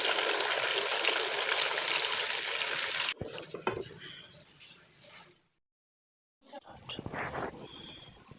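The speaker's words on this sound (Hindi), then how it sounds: "आज बारिश का मौसम है, बहुत ज़्यादा बारिश शुरू है।" Heavy rain during a rainy-season day makes a loud, steady broadband hiss for about three seconds. It then gives way to quieter scattered drips and patters, cuts to a brief silence, and resumes softly.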